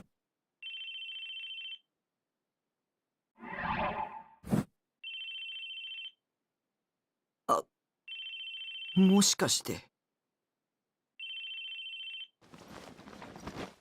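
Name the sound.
phone ringing in Chaos;Head Noah video game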